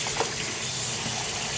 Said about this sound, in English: Wash the chicken in some vinegar water.